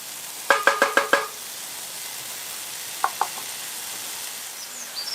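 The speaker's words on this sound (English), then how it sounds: "The bacon is nicely rendering out the fat" Pork net bacon and cevapcici sizzle on a Dutch oven lid with a soft, steady frying hiss. Over it come a quick run of five clinking metallic taps, then two more a few seconds later.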